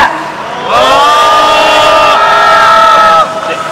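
A rally crowd at a candlelight protest in Incheon lets out a loud collective shout and cheer, voices rising together and holding for a few seconds before fading.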